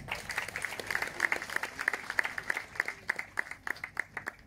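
Steady, evenly spaced clapping from a modest crowd at a village harvest festival in Kościelec, honouring the festival hosts; the sharp claps carry at moderate volume with no voices over them.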